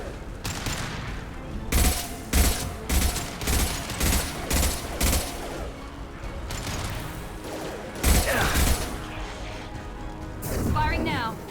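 Rapid bursts of gunfire from a Mass Effect 2 firefight, with repeated sharp shots in quick volleys, loud and close, mixed with game voices talking over the combat.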